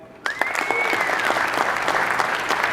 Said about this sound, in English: Show of applause or round of applause.